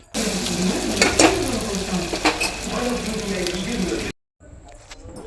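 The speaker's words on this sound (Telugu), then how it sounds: "ఆ పేస్ట్ని ఆయిల్లో వేసి వేయించుకోవాలి" Ginger, garlic and onion paste frying in oil inside a pressure cooker, a loud steady sizzle with a few stirring scrapes that cuts off abruptly near the end, leaving faint noise.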